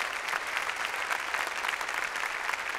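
Church congregation clapping during a Spanish-language sermon: dense, steady applause at moderate volume, continuous without breaks, with no voice standing out above it.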